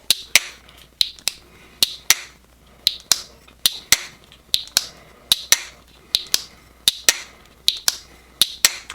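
Crisp, regular clicks and snaps from a traditional slipjoint pocket knife blade being opened and closed over and over, close and loud, in a steady rhythm of paired snaps with nobody speaking.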